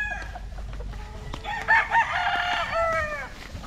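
Roosters crow on a Philippine gamefowl farm, several overlapping calls close by in quick succession, with faint clucking and a noisy background before them.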